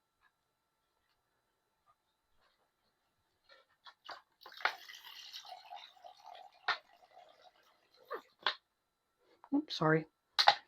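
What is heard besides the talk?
spray bottle spraying water, then running out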